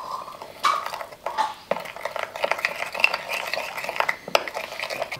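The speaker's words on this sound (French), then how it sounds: "comme ça je peux venir mélanger le tout" Rabbit marinade of cider vinegar, salt and chili flakes stirred with a utensil in a bowl for a barbecue roast rabbit, giving close scraping and clinking of metal against the dish in an uneven rhythm.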